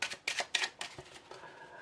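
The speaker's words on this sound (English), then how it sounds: "you show them normal, and you even give them a shuffle" A deck of playing cards being shuffled for a close-up card trick: a quick series of soft, crackling riffles, faint and close.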